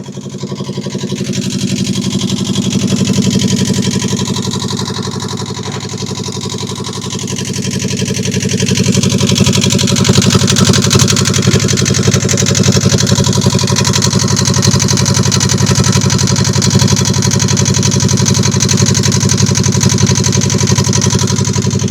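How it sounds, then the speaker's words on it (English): Engine on a wrecked Prout catamaran running steadily just after starting, a loud, close, continuous idling drone with a slight rise in level partway through and no voices. "Oh, we've got an engine. Thank God. Oh, we're up and running."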